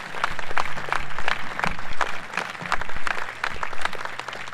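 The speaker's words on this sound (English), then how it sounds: "Let's give them a round of applause." An audience at a groundbreaking ceremony for the Gateway Project claps for the trustees, uneven clapping rising and falling in bursts, fairly loud and close.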